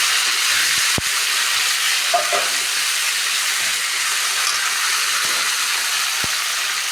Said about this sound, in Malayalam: മുരിങ്ങര എല്ലാം നന്നായി കഴുകി വൃത്തിയാക്കി വെച്ചിട്ടുണ്ട് അതിടാം നന്നായിട്ട് ഇറക്കി കൊടുക്കാം